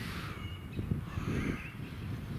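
Crows cawing at dusk during a wild bivvy camp in Northumberland, several harsh calls in a loose sequence, fairly distant over a low outdoor background.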